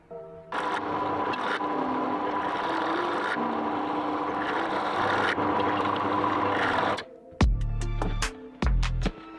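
A power drill drives screws into wooden shelf boards for a DIY Blu-ray shelf while they are glued, its motor whining loudly in several sustained runs with slight pitch shifts, followed by short, stuttering bursts and thumps near the end.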